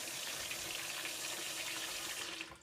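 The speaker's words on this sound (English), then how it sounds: "put it in the sink, and then let hot water run on the outside of it" Hot tap water runs steadily into a sink and over the outside of a glass carboy being warmed for cranberry wine, a continuous close splashing rush that fades out at the very end.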